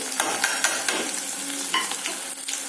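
Crushed garlic frying in hot oil for a spicy tamarind kara kuzhambu curry, with a spoon stirring and scraping the pan: close sizzling under irregular clinks and scrapes, with no voices.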